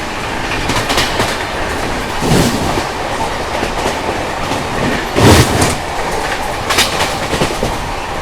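Garib Rath Express 12211 running toward Anand Vihar and passing Gajraula Junction, heard from inside: loud steady rail rumble with rhythmic clickety-clack of wheels over joints and periodic heavier clunks, no talking.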